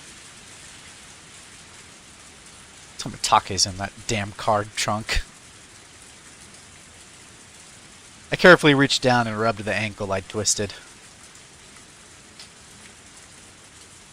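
Heavy rain pours down outside a car in a steady, close hiss that runs through the whole stretch, with a voice speaking over it in two passages.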